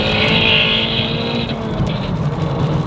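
A Toyota Altezza RS200 engine roars loudly and steadily, with a high whine easing off after a moment while the low rumble continues.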